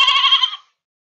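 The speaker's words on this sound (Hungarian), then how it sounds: "Jön a bárányka." A lamb gives a single short, bright bleat lasting about half a second, close and clear, followed by silence.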